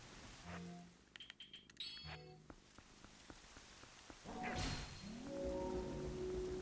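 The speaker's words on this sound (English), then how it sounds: "Oh, yep, there's the rain." Rain falls in Zelda: Twilight Princess, a soft steady patter with scattered single drops ticking, joined by faint chimes and a swelling shimmer of game sound.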